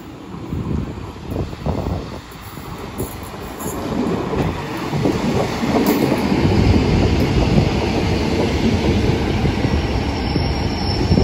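Class 150 and Class 143 diesel trains arrive at Treforest station in the South Wales Valleys, rumbling and clattering louder as they roll in, with wheel squeals and a steady rolling roar near the platform.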